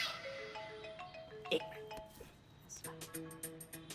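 A phone rings with a bright, repeating electronic ringtone melody, fairly quiet and heard under talking voices.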